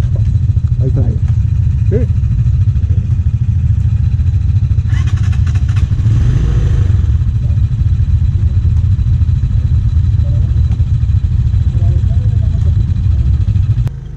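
A motorcycle engine in first gear chugs with a low, steady rumble throughout a riding lesson. Brief voices and a short burst of wind noise come through over it.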